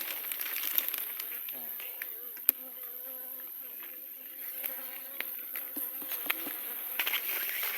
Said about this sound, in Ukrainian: Так, бджоли там внизу на всіх.